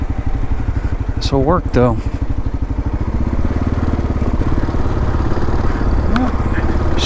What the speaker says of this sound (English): feels like a KLR on the dirt